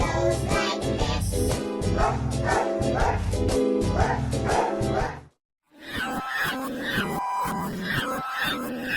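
A dog barks in repeated yapping bursts, heavily layered with dense, rhythmic, music-like processed sound that runs loud and continuous except for a short silent gap midway.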